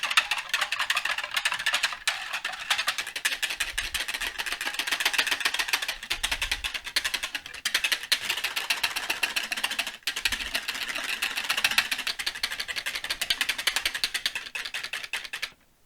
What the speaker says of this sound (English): Just going to whisk it.